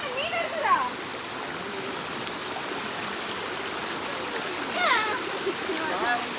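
Water rushing over rocks in a stream below a waterfall near Gundaru Dam in Tenkasi, a steady close roar with splashes, while people talk over it at a few points.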